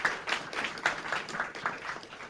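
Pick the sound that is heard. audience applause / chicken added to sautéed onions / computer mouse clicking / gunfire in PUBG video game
audience applause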